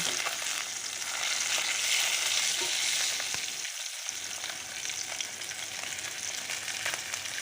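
Bahu fish pieces fry in oil in a wok, giving a continuous, close crackling sizzle that stays fairly even throughout, with only brief dips in intensity.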